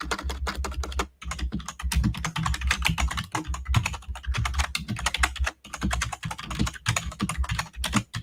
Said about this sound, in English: I realize I have a noisy keyboard here